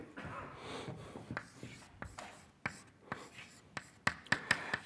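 Chalk or marker taps and strokes on a board while an equation is written during a lecture on biological condensates, a series of close, crisp ticks and scratches that grow sharper toward the end, with a quiet room behind.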